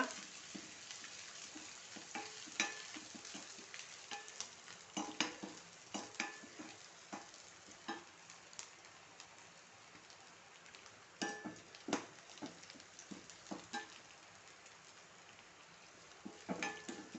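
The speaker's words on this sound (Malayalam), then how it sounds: "നന്നായിട്ടൊന്ന് വറുത്ത് ഒന്ന് മൂപ്പിക്കണം" Crushed garlic and chillies frying in a pan, with a steady low sizzle under repeated scraping and clinking stirs of a spatula against the pan.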